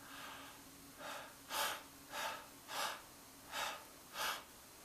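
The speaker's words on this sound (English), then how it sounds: "And breathing into the abdomen." Deep abdominal breaths drawn during a vocal warmup, six slow rhythmic inhales and exhales roughly every half second to second, soft and close, with no talking.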